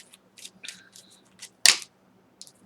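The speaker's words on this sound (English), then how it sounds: "It's the last time I'm going to shuffle." Tarot cards are shuffled in quick bursts of crisp, papery riffling and slapping, with one sharper, louder snap partway through, each burst short and close with silence between.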